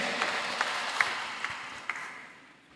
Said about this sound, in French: On nous applaudit s'il vous plaît